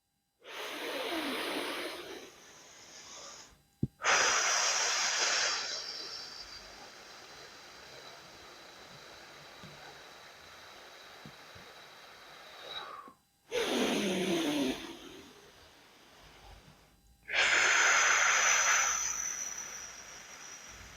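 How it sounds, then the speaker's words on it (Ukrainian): Pranayama breathing on a 5-count inhale and 10-count exhale, heard as close, airy breaths alone: short inhales alternating with longer, hissing exhales separated by brief silences. "я роблю видих вдвічі довше, ніж вдих"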